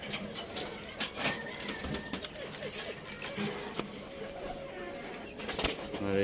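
Racing pigeons in a loft, with sporadic wing flaps and soft coos close by over a busy, noisy background, with occasional sharp knocks.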